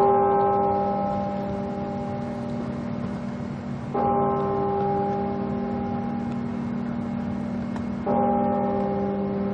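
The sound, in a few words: church bells ringing seven strokes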